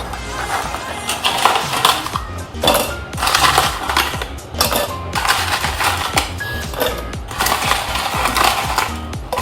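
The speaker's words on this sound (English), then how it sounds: "I am putting all these cookies into the jar for grinding." Twenty Oreo cookies grinding in a simple mixer jar: loud, close crunching and rattling roar in bursts of one to two seconds, separated by brief dips as the grinder pulses on and off.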